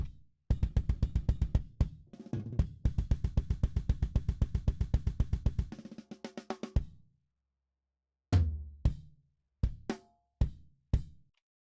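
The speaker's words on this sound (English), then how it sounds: "So what you heard there was a snare roll." A rapid snare drum roll of evenly spaced hits that speeds up and fades, followed by a few separate, loud single snare strikes with pauses between.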